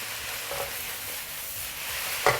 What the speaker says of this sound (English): Just stir them up and mix them up well.